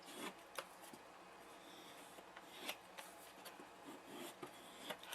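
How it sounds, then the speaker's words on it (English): A bone folder burnishes the edges of paper card stock in a quiet room, giving repeated soft rubbing and scraping strokes with a few sharper brushes. "taking my bone folder, and I'm going to burnish the edges"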